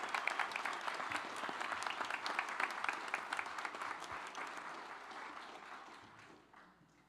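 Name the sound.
audience applauding in a temple sanctuary after a benefit concert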